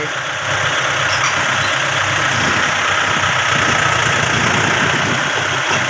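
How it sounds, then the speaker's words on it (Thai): A Yanmar YM357A tractor's diesel engine running loudly up close, a steady rough mechanical drone with a slight rise in intensity after the first half second and no talk over it. "มาเบิ้งรถไถ"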